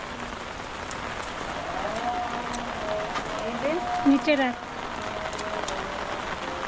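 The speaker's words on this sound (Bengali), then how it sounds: "বাইরে প্রচুর বৃষ্টি" Heavy rain pours steadily onto a rooftop as a dense, even hiss, with a person's voice speaking briefly over the downpour.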